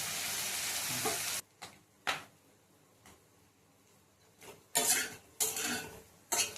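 Mixed vegetables with turmeric, salt and green chillies fry in a pan for a Bengali dish, bursts of loud sizzling and spatula scraping alternating with quiet pauses and light clinks of utensils.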